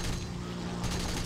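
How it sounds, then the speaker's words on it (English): Rapid 30 mm cannon fire from an ME 410 B-6/R3 heavy fighter in War Thunder, a dense, fast burst of booming shots that briefly surges louder near the end. "I love the sound of the cannons though."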